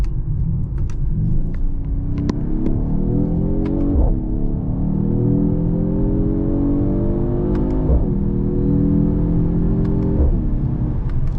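Engine of a Mercedes-AMG GT43 while driving, a steady loud rumble with rising revs through the gears, each upshift marked by a drop in pitch before climbing again.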